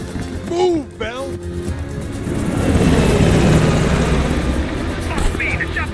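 A helicopter flying away in the Call of Duty Black Ops Cold War video game: a loud, broad rotor roar swells and holds after a brief shouted voice at the start.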